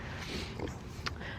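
Farm pigs grunt and snuffle close by in a no-till garden plot, soft low oinks and sniffs over a rough background, with a person speaking quietly among them.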